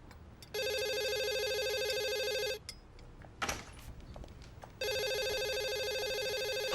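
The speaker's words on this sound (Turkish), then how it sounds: "Telefon zilini bile unutmuşum." A telephone rings in two long electronic bursts separated by a pause with faint rustling, close and clear.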